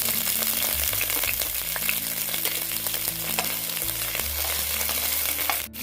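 Finely chopped beans fry in hot oil for Chinese-style veg schezwan fried rice, with a dense, steady close sizzle and occasional scrapes of stirring, no speech.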